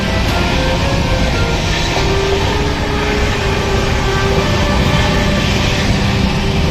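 The Shalimar–Puri Superfast Express 12895 runs through the night, giving a loud, continuous rumble of wheels on rails with a steady broadband roar and no break throughout.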